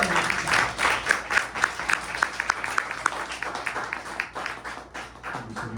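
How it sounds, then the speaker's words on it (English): Applause from a live café audience greeting a performer in Miami, a steady wash of many hands clapping with sharp individual claps standing out, moderately close and continuing throughout. "of applause. Welcome."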